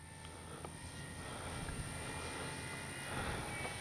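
A Flex RV-8 60E G2 RC model airplane hovering in slow-speed 3D mode, its electric motor and propeller holding a steady, faint droning whine that swells slightly toward the end, with no talk.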